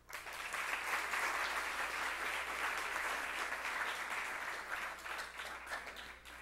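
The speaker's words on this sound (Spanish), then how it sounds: "para quien pido un fuerte aplauso" Auditorium audience at a cultural centre lecture event applauds, a steady, fairly distant wash of clapping that holds evenly for several seconds.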